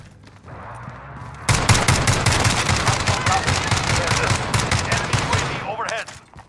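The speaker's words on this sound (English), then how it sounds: "Taking fire over here." Gunfire in the Warzone video game: a sudden, loud burst of rapid automatic shots, close and sustained for about four seconds, then tapering off, with a faint voice near the end.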